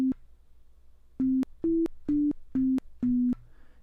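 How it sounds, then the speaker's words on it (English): Six short sustained tones from a Web Audio oscillator in a JavaScript MIDI synth each cut off with a faint click at release, evenly spaced and clean against near silence. "you can probably hear that you get like a weird little click every time you,"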